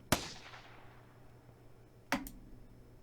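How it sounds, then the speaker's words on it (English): Two sharp gunshots in the Steins;Gate visual novel, spaced about two seconds apart, each a loud crack with a short decaying tail, alone without talk. "The sound of shots smites upon my eardrums."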